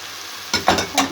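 Green zucchini dropped into a hot frying pan, a quiet sizzle broken by a sudden splash and several quick scraping stirs in the last half second, close and fairly loud, no voices.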